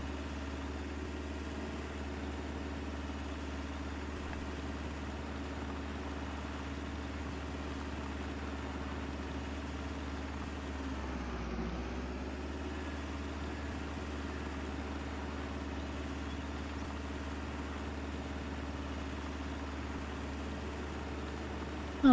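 A small tractor in Farming Simulator 22 drives along with a steady, droning engine hum that holds at an even level throughout, with a brief dip and swell midway.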